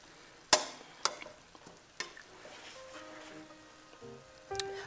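Crack slaw ingredients being mixed in a pan, with a few sharp utensil knocks against the pan over a faint, steady sizzle and some clinks near the end.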